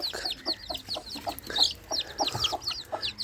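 Young chicks cluck and peep in rapid, overlapping bursts, close and fairly loud, with no talk over them.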